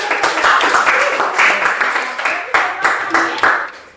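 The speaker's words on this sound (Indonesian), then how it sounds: "ya, beri aplaus." An audience claps in steady applause for about four seconds. The clapping is loud, close and dense, with a few louder swells.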